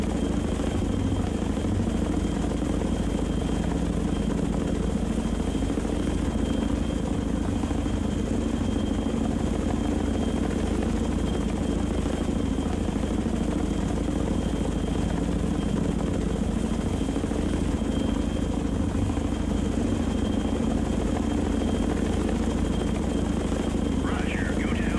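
An aircraft drones steadily over the Thames estuary in the Sea Power naval game, with a continuous loud engine rumble and no break for the whole stretch.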